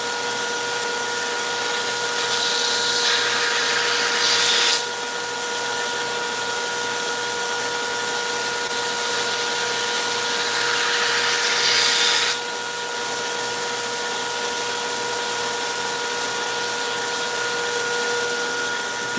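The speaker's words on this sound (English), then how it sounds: "see where I'm grinding, see where it's shiny? So I'm slowly gonna work on the edge here." A grinder bevels a blade edge with a steady, loud whirring drone. The pitch brightens into a harsher grinding hiss twice, once for a couple of seconds and again for several seconds, as the edge is pressed lightly against it. No talking.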